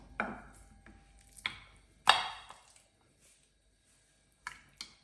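Lamb chops being tossed into a spice marinade in a kitchen: a few soft, wet squishing and slapping sounds spaced apart, close and fairly quiet, with silence between them.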